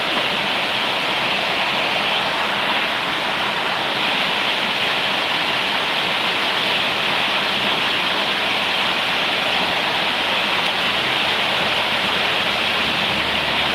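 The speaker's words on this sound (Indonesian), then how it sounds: "Kalau di Padang sekitarnya hujan sangat lebat" Heavy tropical rain pouring down around Padang, a loud, dense, steady roar of downpour that stays constant throughout with no talk over it.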